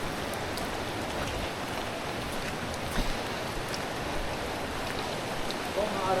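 Steady, continuous rain in Baler, Philippines, a dense even hiss of drops with no break in intensity and a couple of slightly louder splashes.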